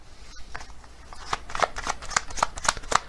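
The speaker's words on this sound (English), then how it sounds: "Actually, I'm going to get another card from this deck." Tarot cards shuffled and drawn from a deck, a run of crisp riffling snaps and flicks growing busier and louder after a quiet start, close up with no talking.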